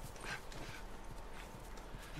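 Horse hooves clip-clopping in The Last of Us, a quiet steady walking rhythm of hoof falls on ground, faint and continuous over light ambient background.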